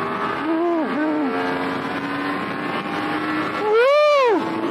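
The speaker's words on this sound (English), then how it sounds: "There are very few things that I like more than waking up a big ass superbike like this." A 2018 Yamaha YZF-R1 superbike engine revs up sharply twice, rising and falling in quick blips, loud and close, with a low idle rumble in between.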